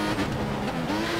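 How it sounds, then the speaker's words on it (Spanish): A Toro Rosso Formula 1 car in the video game F1 2014 at the Russia circuit drives hard through a corner, a loud continuous engine whine with a shifting pitch and a brief tyre skid, alone without voices. "derrapándonos el coche en esa curva"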